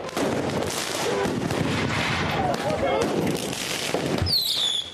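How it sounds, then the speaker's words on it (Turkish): Fireworks thrown by protesters at police during street clashes in Peru, scattered sharp bangs and crackles over a continuous crowd roar, with a whistling rocket near the end. "Göstericilerden bazıları polise havai fişek attı, taş fırlattı."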